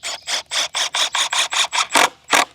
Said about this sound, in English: Take your screw and screw that in.